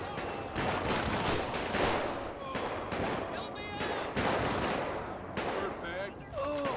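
Gunfire in GTA 5 during a police gang-unit shootout, bursts of shots cracking over a dense mix of game noise, with players talking throughout.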